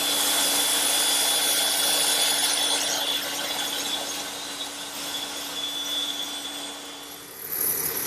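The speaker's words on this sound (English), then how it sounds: "I'll cut it on my bandsaw" A bandsaw cuts a heart-shaped wooden saddle piece for a rocking horse, a loud, steady whine and rasp of blade through wood that eases slightly before a brief lift at the end.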